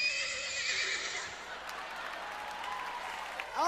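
A voice imitates a horse's whinny, a high, wavering neigh that starts loud and slowly fades over a few seconds, close to the listener with no talk over it.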